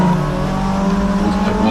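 A tin-top touring race car at Castle Combe circuit howls past close by, its engine droning loud and steady at high revs for the whole moment.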